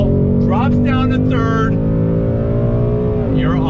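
A 2020 Ford Mustang GT with the 10-speed automatic drops from fifth gear on throttle at about 52 mph, engine note climbing as it pulls hard, loud and close inside the cabin while someone talks over it.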